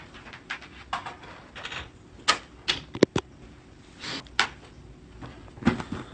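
Tarot cards are handled and shuffled up close, with a run of crisp clicks and snaps in an uneven rhythm and a few sharper taps.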